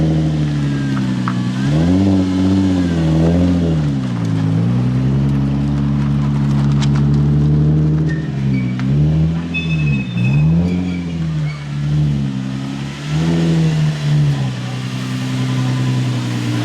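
A drift car engine revs hard and loud, rising and falling through the gears as it pulls into the bay, close to the listener and sustained throughout.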